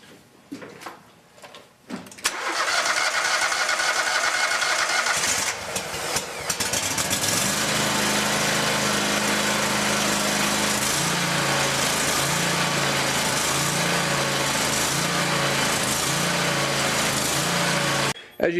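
A Kohler Command Pro engine on a Scag Tiger Cat zero-turn mower cranks and catches after a brief quiet moment, then runs loud and close, climbing to a steady high-pitched full-throttle drone with slight wavering throughout.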